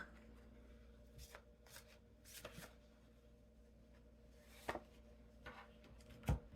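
Deck of cards shuffled for a card reading, soft close riffles and slides in several separate bursts, quiet, with a sharper slap near the end.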